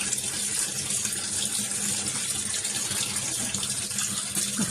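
Running water pours steadily while clothes are washed by hand at a basin, a continuous close gushing hiss that stays even for the whole stretch, with no voices over it.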